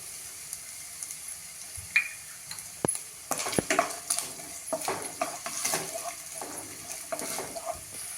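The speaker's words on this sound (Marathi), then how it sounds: "कोथिंबिरीच्या कोवळ्या काड्या घालतीये कांदा" Tender coriander stems and onion hit a hot pan for veg manchow soup, crackling and sizzling with stirring scrapes and utensil clinks against the pan, close and busy without speech.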